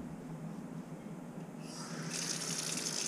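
Tap water runs steadily from a kitchen faucet as red drum fillets are rinsed under it, a continuous close hiss and splash that grows brighter and louder partway through.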